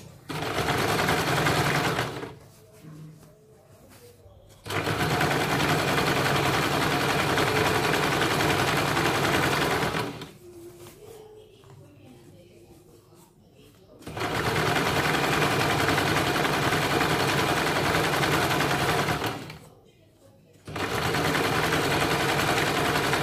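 A sewing machine stitches along a salwar belt in three long, loud bursts of rapid, buzzing runs, separated by quieter pauses where faint speech and handling noises can be heard.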